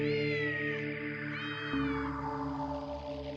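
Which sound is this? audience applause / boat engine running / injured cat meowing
injured cat meowing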